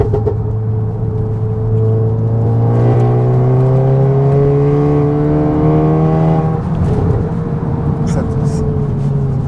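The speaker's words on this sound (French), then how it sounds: "je vais mettre une accélération, il a du mal à suivre" A stage 2 Seat León Cupra ST estate, rated at 400 hp, accelerates hard, its engine note climbing steadily through the revs before a gear change and a renewed pull, loud and close from inside the car.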